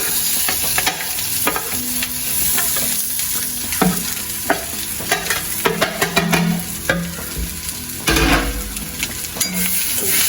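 Thirukkai (stingray) varai roasting in a pan over low heat, a close sizzle broken by frequent sharp scrapes and clatters of a spatula stirring against the metal, irregular and fairly loud.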